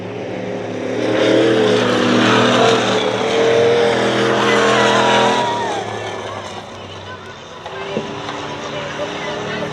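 Race cars circle Dirtona Raceway, a dirt oval, their engines droning loudly and steadily before easing off toward the end, with a commentator talking over the noise throughout.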